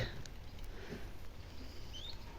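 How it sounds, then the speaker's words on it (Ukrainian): Steady light rain patters softly outdoors, a continuous fine hiss with a few faint drips, no talking. "Тарабанить дощик."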